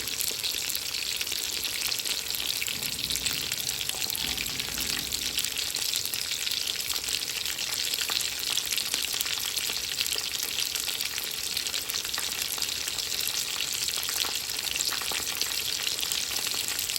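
Hotdogs sizzle and fry in a pan over low heat, a continuous crackling hiss that holds steady throughout with no voices over it.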